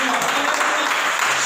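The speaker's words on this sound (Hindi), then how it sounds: "बोलो ताली बजाकर धन्यवाद करें" A church congregation claps their hands in thanks during a Hindi-language worship service, a dense, continuous wash of applause filling the whole moment at steady loudness.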